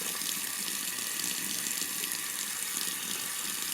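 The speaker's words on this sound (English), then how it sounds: "let the water get warm, shouldn't take long" Tap water runs steadily from a faucet into a sink, a loud continuous splashing hiss that holds evenly throughout with no talking.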